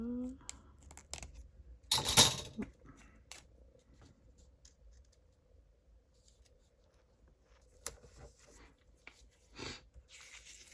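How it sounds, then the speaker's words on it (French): Scissors snip through a piece of paper card for an artist trading card, with a sharp burst of cutting early on and a few lighter snips and clicks later, with quiet speech in the background. "Fait que je vais me le découper."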